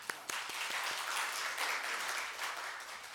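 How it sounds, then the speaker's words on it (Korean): A church congregation gives a short round of applause for the choir, starting with a few sharp separate claps and swelling into dense, fairly faint clapping that carries on to the end. "박수 한번"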